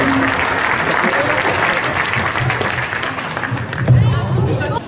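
An audience at a handball coaching session breaks into applause, dense clapping mixed with crowd murmur that holds steady, with a few louder voices rising near the end.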